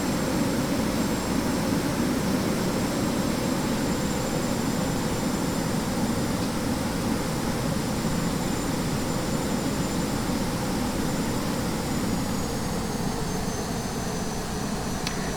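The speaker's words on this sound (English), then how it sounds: "Let's do an unrealistic, slightly too fast taxi," Jet airliner engines in X-Plane 11 running at a steady, loud roar as the plane taxis unrealistically fast toward runway 24, a constant broadband drone with a faint high whine, no talk over it.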